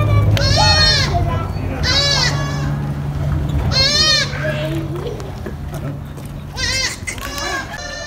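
Goats bleat repeatedly on a goat farm where a goat has just given birth to two kids, loud, wavering calls coming in several bursts over a steady low hum, with children's voices in the background.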